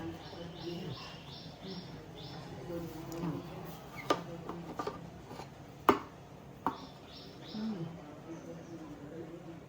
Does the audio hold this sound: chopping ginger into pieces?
yes